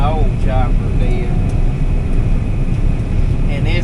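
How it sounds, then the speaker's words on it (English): Steady, loud machinery drone with a deep low rumble and mechanical whir, continuous throughout, from a John Deere 9760 combine harvester running with its straw chopper in a wheat field nearby. "I got a combine with a chopper working"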